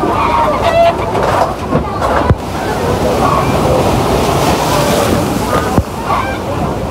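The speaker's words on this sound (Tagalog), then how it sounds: "Grabe sobrang lakas ng hampas ng alon." Strong sea waves crash and slosh heavily against the shore after a typhoon, loud and close with constant rushing surf and occasional harder hits.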